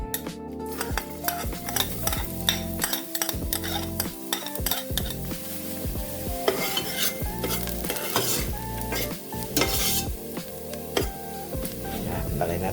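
Garlic frying in a pan for kare-kare, a loud, continuous sizzle with busy scraping and clinking of a utensil against the pan, close up and without speech.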